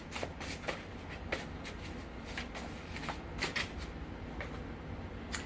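A deck of tarot cards is shuffled by hand in repeated quick riffling bursts, close and crisp, with brief pauses between each run of flicking cards and no voices.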